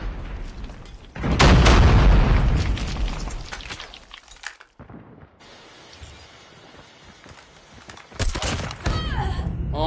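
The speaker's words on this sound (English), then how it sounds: "Grenade!" A grenade blows up in a first-person shooter match, a loud booming blast with a rumbling tail, later followed by more sharp bursts of gunfire and impacts.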